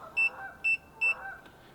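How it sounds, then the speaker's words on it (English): A Eufy smart lock keypad on a deadbolt gives three short, high electronic beeps at an even pace while unlocking, quiet against a soft background hum. "it'll give you a blue and a beep, and that means that it unlocked itself"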